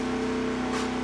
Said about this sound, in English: That noise you hear in the background is a wood chipper